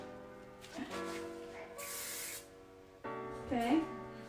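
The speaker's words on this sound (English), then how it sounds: "So let's hairspray it." A short burst of hairspray hisses onto a stacked braid in long hair, one quick spray between stretches of talking.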